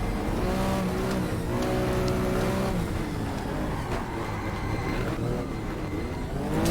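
Porsche 914-6 and 911 race car engines roar in the GTR2 racing game, revving up and down through gear changes in a loud, continuous drone with no talk.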